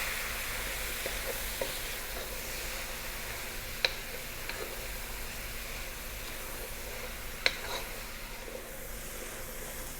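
A lentil, vegetable and cumin stew simmers with a soft, even sizzle in the pot, with two faint clicks of a spoon during an occasional stir.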